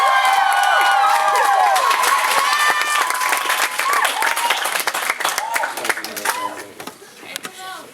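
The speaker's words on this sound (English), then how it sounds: "I want you to cheer your very loudest for the homegirl, Carmel!" A poetry slam audience cheers and applauds loudly as a performer is called to the stage, with dense clapping and whoops that stay strong before gradually thinning out toward the end.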